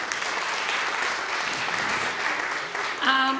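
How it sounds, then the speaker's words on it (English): Audience applause fills a Queen's Park Day 2024 event hall, steady dense clapping from a large crowd that holds level for about three seconds before a voice begins at the end. "give yourselves a round of applause, please"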